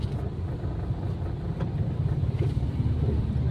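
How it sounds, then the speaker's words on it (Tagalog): Road traffic on EDSA, a dense low rumble of car and vehicle engines rolling steadily with faint passing swells, heard up close and without talk. "Traffic dito sa EDSA."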